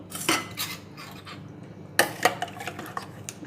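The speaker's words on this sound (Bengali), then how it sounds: "দিয়ে একটু এটাকে নাড়িয়ে নেব চামচ দিয়ে।" Metal spoon stirring water into rose lassi, producing a few bright clinks and scrapes against the glass or bowl in two short bursts with a quiet pause between them.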